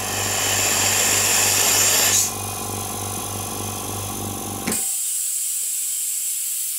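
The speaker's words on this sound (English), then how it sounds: "when the compressor switched off, there shouldn't be air leaking out of it" Swan DRS-210-30 air compressor switched off yet leaking air, with a loud motor drone that stops abruptly, then a steady hiss that cuts out and gives way to a thinner continuing leak.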